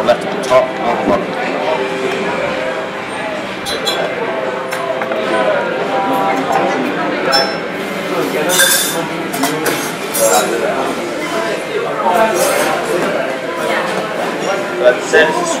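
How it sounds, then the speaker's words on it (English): Ice and a metal swizzle stick clink and rattle in a glass while an absinthe swizzle cocktail with mint is stirred, producing a steady stream of light chinks close by under continuous talk. "I'm just going to give that a stir to incorporate all those flavors"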